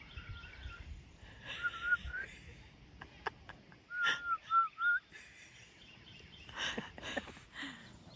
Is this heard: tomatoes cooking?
no